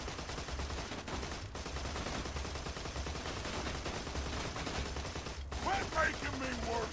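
Rapid automatic gunfire from a weapon in Borderlands 2, bursts of shots with mechanical clatter in a busy game mix, fairly quiet overall.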